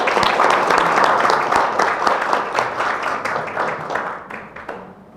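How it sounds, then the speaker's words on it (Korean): An audience at an intellectual property policy forum applauds a professor being introduced, a dense burst of clapping that gradually thins and fades out over several seconds. "교수님께 박수 한번 부탁드리겠습니다."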